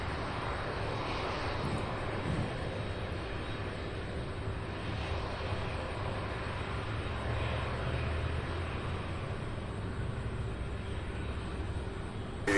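An airliner arriving from JFK at Louisville gives off a steady, moderately distant jet rumble and hiss that holds fairly even throughout, with no one talking.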